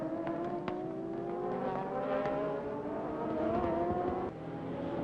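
GT500 race cars in the 2002 Japan GT Championship, with the 64 car pulling away from its Honda rivals. A loud, continuous engine roar climbs steadily in pitch as several cars scream past together. No one speaks.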